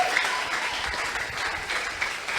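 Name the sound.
audience applause acclaiming the Holy Spirit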